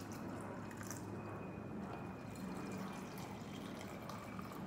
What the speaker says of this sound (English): This is Seattle tap water. And I'm going to pour those in here.